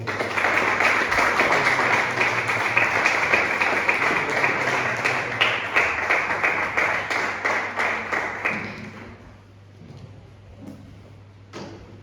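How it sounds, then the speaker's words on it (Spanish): Sustained applause from a church congregation fills most of the stretch, then thins out into a few scattered claps before fading away. "Dale un fuerte aplauso a nuestro Señor Jesús."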